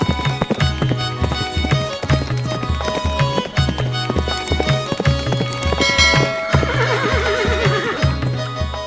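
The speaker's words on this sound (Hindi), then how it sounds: "यज्ञ के लिए उनका घोड़ा पूरे संसार में घूमने लगा।" A horse in an ancient royal ceremony whinnies and its hooves clip-clop in a steady rhythm, set against loud, dense orchestral music that plays throughout.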